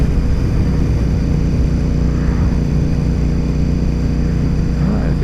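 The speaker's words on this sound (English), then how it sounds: "one of their planes is flying right now" A vintage warplane passes overhead at the Canadian Warplane Heritage site, a steady propeller drone with a constant low rumble that holds at an even level throughout, with no talk.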